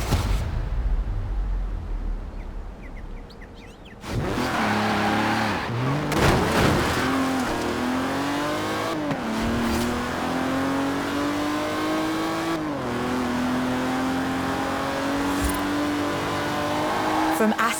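A race car in Forza Horizon 4 accelerates and holds a steady, loud engine drone with rising pitch sweeps across gear changes, entering after a quieter opening of about four seconds and continuing to the end.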